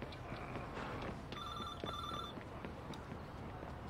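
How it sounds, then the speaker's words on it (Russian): A telephone ringing in the video game Watch Dogs 2: a bright, electronic two-tone trill sounds for about a second, pauses briefly, then rings again over a constant low game ambience. "А, телефон звонящий."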